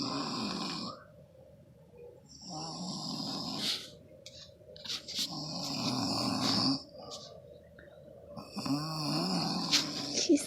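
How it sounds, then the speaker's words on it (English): A sleeping man snores loudly and close by, with deep, rattling inhales repeating every couple of seconds, each followed by a quieter breath out. "She's snoring. It's so funny and loud."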